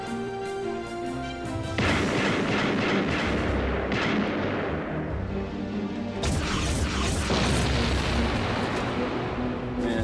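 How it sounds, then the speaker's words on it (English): Gunfire in the video game Ground Zero Texas, dense rolling bursts of shots and booms layered over music, loud and continuous with a heavier barrage in the second half. "That's the wrong sound effect for that gun."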